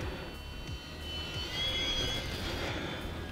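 An E-Flite UMX Twin Otter STOL RC plane flies past close by with a faint, steady electric whine that swells slightly as it nears and then holds against soft outdoor background noise.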